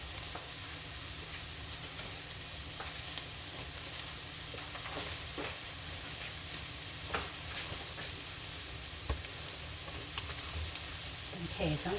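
Hawaiian-style curry meatballs sizzle in a pan, a steady broad frying hiss with occasional scraping clicks as they are stirred, fairly faint and continuous throughout.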